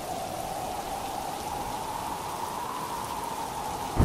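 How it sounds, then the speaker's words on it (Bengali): Steady, dense rain pours during a storm in an animated cartoon, a continuous even hiss with no voices over it. "ঝড় বৃষ্টি শুরু হলে মিতুর ঘরের চালের বিভিন্ন জায়গা থেকে পানি পড়তে লাগলো"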